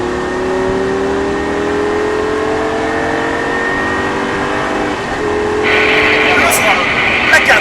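A Lamborghini engine accelerates hard on a race track, rising tones climbing through the gears in close, loud in-car sound, with an instructor talking over it.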